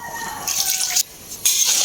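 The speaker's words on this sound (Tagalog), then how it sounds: "lagyan natin ng 2 basong tubig" Two glasses of water poured into a cooking pot while making chicken, a hissing, splashing pour that breaks briefly in the middle, then resumes close and loud.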